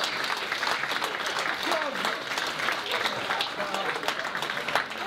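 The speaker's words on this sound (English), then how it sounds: "Round of applause, please." An audience at a charity gathering claps steadily with dense, continuous applause throughout, fairly close and even in level.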